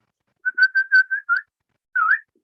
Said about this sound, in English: You woke up my dog with your whistle